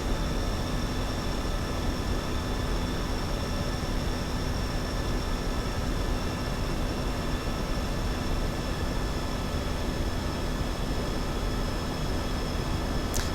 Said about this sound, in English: Okay, throttling back, and I'm going to begin my descent.